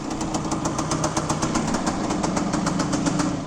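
A 1975 Suzuki RV125K Tracker motorcycle engine runs steadily at close range, giving a fast, even pulsing beat with a slight knocking texture throughout and no talking.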